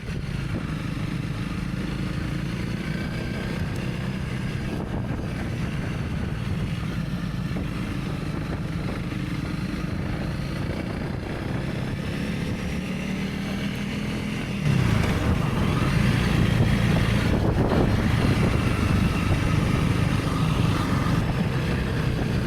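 A 2025 KTM 390 Enduro R motorcycle climbs a hill in North Devon, its engine giving a steady, close drone that grows louder and rougher about two-thirds of the way through, with no talk.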